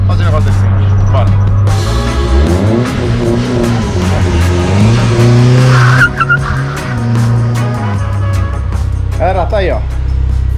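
A turbocharged Chevrolet Celta engine runs loud and close, its pitch rising and falling rather than holding a steady idle, while people talk over it.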